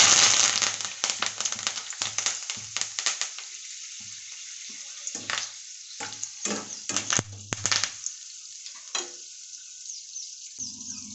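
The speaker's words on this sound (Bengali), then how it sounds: "এবারে কারি পাতা ভেজে নেব।" Curry leaves hitting hot oil, starting with a loud burst of crackling and spitting that breaks into scattered sharp pops and sputters, fading toward quieter gaps near the end.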